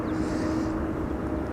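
A KLM airliner arriving from Paris Charles de Gaulle at Schiphol produces a steady, distant roar with a soft whine on top, with no voices.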